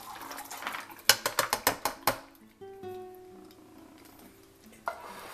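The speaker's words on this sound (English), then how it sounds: "What we're going to do is dump in the butter beans, the chickpeas, the black-eyed peas," Canned butter beans, chickpeas and black-eyed peas dumped into a pot give a burst of rapid wet clanks and plops, several knocks of the can rim on the pot, then a ringing metallic tone fading out, with one final tap.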